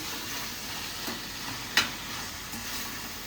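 Ginger-garlic paste sautés in a pan for Madurai-style mutton kuzhambu with a faint, continuous hiss. A single sharp utensil tap sounds midway.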